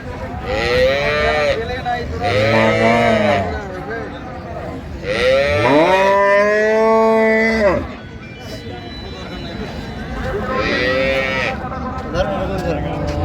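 Cows moo loudly several times, long drawn-out bellows one after another, close by amid a busy outdoor cattle market in Raniganj, Dinajpur.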